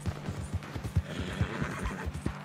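In Red Dead Redemption 2, a horse gallops with rapid, rhythmic hoofbeats and lets out a neigh, heard fairly faintly with a steady background rumble.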